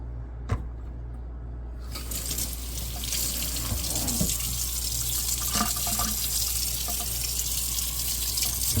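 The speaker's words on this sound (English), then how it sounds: "I'm gonna run some cold water over it to stop all the cooking." Cold water running from a kitchen tap over smoked salmon, a steady close splashing stream that starts abruptly and continues unbroken to the end.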